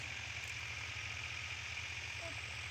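A tractor engine runs in a field during wheat sowing, a steady rhythmic low throb at moderate distance, constant throughout.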